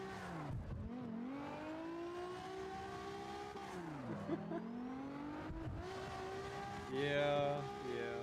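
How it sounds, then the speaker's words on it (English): Video game car in CarX Street, a C4 fitted with an R35 engine, revving with rising and falling engine pitch while drifting, a brief tire squeal near the end, steady and close throughout. "It's got a R35 engine in it."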